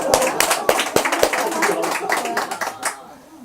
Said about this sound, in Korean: 박수 한번 치자.